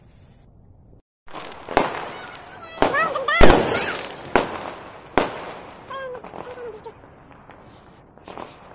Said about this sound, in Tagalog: Hinintay namin yung fireworks.